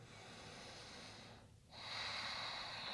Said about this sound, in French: Encore une grande respiration.